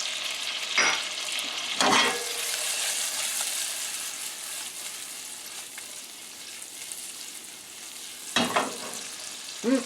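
Finely minced garlic and onions sizzle in a hot pan, a steady frying hiss broken by a few sharp bursts as the pieces are stirred or added, close up with no talking.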